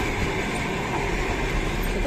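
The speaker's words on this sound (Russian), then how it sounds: "Это другой, Тим, это не тот поезд" A long train rolls past close by at a station in summer, a dense, steady roar of wheels and rail noise with faint clatter that holds at full loudness throughout, with no voices over it.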